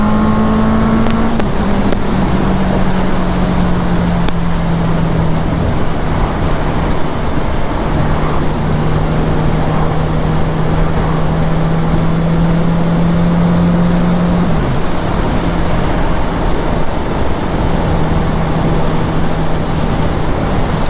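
Naked motorcycle on the road, a steady engine drone with a sustained tone that shifts pitch on gear changes, under heavy constant wind rush, no speech.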